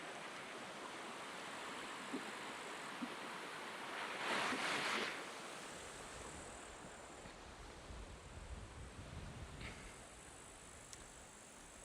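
A creek in Slovenia flows with a steady, soft rushing of water heard at a distance, swelling briefly louder midway before settling back to an even wash.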